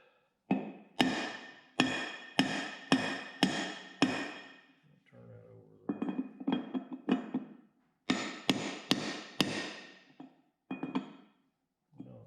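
A bearing driver is struck with a hammer to drive a bearing race down during a torque converter rebuild, giving loud, sharp metallic blows in quick bursts of four to five, with short pauses between groups.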